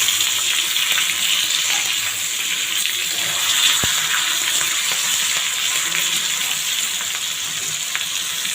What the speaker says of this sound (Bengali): বেগুন আলু ভালোভাবে কেটে ধুয়ে সামনে একটু হলুদ লবণ দিয়ে এখন ভেজে নিচ্ছি